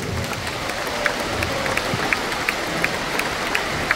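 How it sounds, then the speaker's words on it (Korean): Audience applause at a patriotic religious rally in Korea, a steady crackling wash of many hands clapping at moderate level, with sharper claps standing out at regular intervals throughout. "박수."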